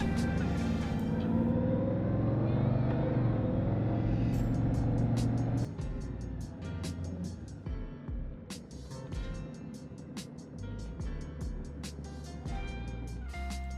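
A 2018 Honda Goldwing motorcycle engine runs at low speed: a steady close rumble for the first half, then a lower idle, with clicks and mechanical ticks sounding over it.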